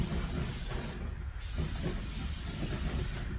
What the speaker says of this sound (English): I'm going to give it a little quick spray of some grilling oil.